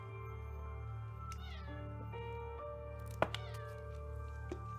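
A house cat meows several times close by, drawn-out, wavering cries followed by a few shorter chirps, over quiet background music.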